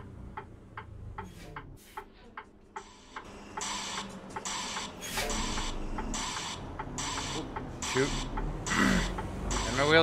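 Trailer landing gear cranked in American Truck Simulator, heard as a run of rapid mechanical ratcheting clicks followed by louder rhythmic bursts of whirring, clattering crank noise, close and clear.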